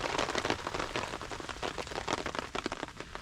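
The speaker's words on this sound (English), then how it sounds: "I'm going to wait for a little break in the rain" Heavy rain pours down steadily on the woods during a thunderstorm, with a dense, close patter of drops hitting surfaces nearby and no voices.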